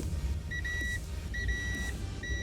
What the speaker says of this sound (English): So if we ground this, it'll beep.